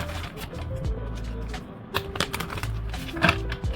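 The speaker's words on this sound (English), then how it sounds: "Let's get started with the shuffling." Tarot cards are shuffled in quick rapid bursts of crisp riffling and tapping clicks, close up, with soft handling noise between.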